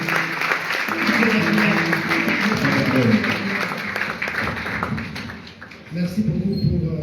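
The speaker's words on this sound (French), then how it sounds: "Applaudissez pour le Seigneur." A congregation at a French-language church service claps together in sustained applause, a dense wash of hand claps that swells, dips briefly near the end, then resumes.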